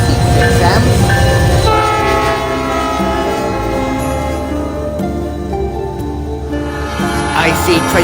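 A CN freight train led by AC44C6M locomotives rebuilt from Dash 9s rolls past close by, a loud, sustained horn blast sounding over the heavy rumble of engines and passing cars.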